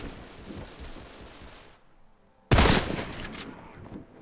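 Gunfire from the video game Deadfall Adventures: steady rattling shots give way to a near-silent gap, then a sudden loud, close burst of firing that decays into continued shooting.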